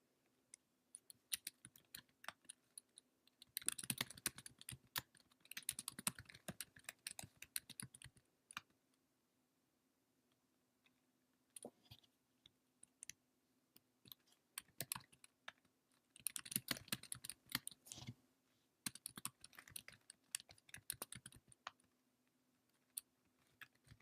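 Fingers tap on a computer keyboard in quiet bursts of rapid keystrokes with pauses between, faint and close against a low steady hum.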